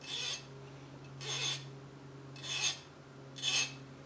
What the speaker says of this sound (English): Let me get a more aggressive file.